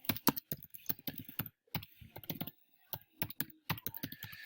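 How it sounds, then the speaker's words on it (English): Typing on a computer keyboard, recorded close: quick irregular key clicks in bursts with brief pauses, ending in a flurry of taps, with no voices. "just by typing in classroom.google.com"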